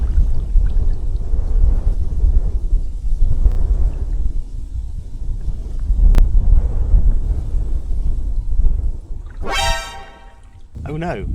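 Strong gusting wind buffeting the microphone while paddling an inflatable kayak on open water, a heavy low roar rising and falling in waves, with a brief sharp whine near the end.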